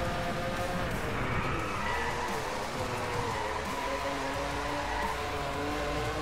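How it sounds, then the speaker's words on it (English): A Ferrari drifting through a corner in the racing video game DRIVECLUB, its engine roaring steadily under continuous tire skidding and squeal for several seconds, loud and close with no talking. "I'm going to try to do a drift in this corner here, seeing as the drifting stat of the Ferrari is actually pretty high."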